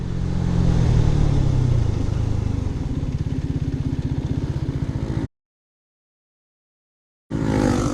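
A 250cc sports motorcycle in road mode decelerates from 60 to a stop on its rear brake, the engine note steadily falling and chugging, then a brief gap before the motor picks up again; no speech.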